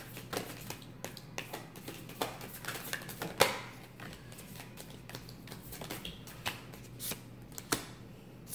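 A deck of tarot cards being shuffled by hand: soft, close riffles and sharp snaps of cards recur irregularly over a quiet background, with no talking.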